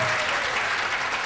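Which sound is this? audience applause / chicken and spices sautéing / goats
audience applause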